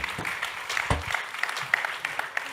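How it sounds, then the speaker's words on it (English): Scattered clapping from a modest crowd, patchy and moderately loud, with no voices over it. "Let's give them a nice round of applause"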